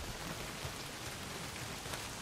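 Steady, dense rain pouring down in the Days Gone video game, a continuous hissing wash of drops on surfaces with no voices.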